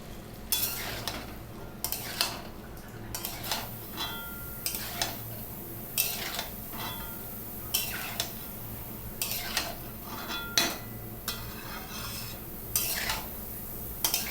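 Raw potatoes stirred into spice paste in a pan for katla fish chorchori, a spoon scraping in repeated bursts over a low sizzle, close and fairly loud, with no talking.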